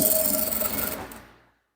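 A sewing machine stitches an agbada in a quick, even run of close mechanical whirring that cuts off abruptly after about a second and a half, leaving silence.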